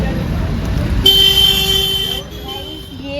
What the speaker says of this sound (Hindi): पीछे तक ट्रैफिक ही ट्रैफिक।